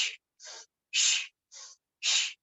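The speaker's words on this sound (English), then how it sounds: "we're going to inhale in, exhale out, in, out, in, out," Rapid forceful yoga breathing, in and out through the nose or open mouth, heard as five sharp, evenly spaced breath bursts alternating shorter and stronger, close and clear with no talking.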